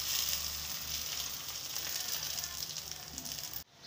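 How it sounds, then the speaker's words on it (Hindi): Loud, steady sizzling of hot tempering oil poured onto sooji dhokla, a continuous crackling hiss that cuts off abruptly near the end. "ये तड़का लेके अपने ढोकले पे हम डाल देंगे"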